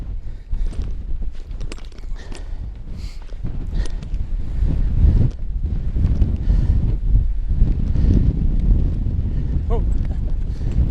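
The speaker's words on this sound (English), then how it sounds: "Oh, it's a bit breezy up here." Strong gusts buffet the microphone on a Lake District mountain summit near Glaramara and Allen Crags, a loud, rumbling roar that persists throughout, with someone speaking briefly amid the wind.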